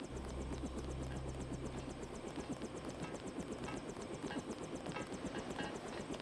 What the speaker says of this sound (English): There's a chopper waiting at the helipad